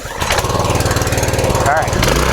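A gas pressure washer's small engine sputters and rattles as it is started, a loud, rapid chugging pulse that fires up and runs briefly, close by.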